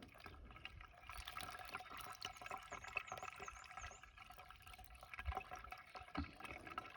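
Water pours into a wicking tub as it fills, a faint, uneven trickling and gurgling with small drips, heard close in a quiet setting with no talking.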